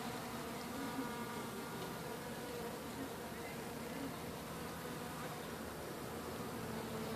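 Honeybees buzzing during a hive cut-out in Lake Wales, Florida, as the colony gathers in a box: a steady, dense insect drone that holds at even loudness throughout, with no talk.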